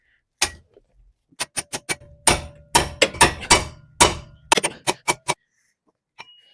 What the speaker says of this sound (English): I'm gonna pop the ball joint splitter straight away.